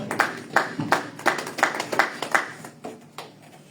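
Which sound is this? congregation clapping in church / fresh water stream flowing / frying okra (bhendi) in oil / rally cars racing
congregation clapping in church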